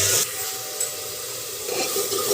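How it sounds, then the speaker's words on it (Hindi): Onions stirred and roasted in a pan for a soybean and pea curry, a soft steady sizzle with light scraping, fairly quiet and close, no voices. "इसे अच्छे से भूनना है प्याज को।"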